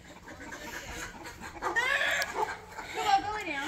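Chickens clucking and squawking in a backyard coop, short agitated bursts close by, mixed with people talking over them.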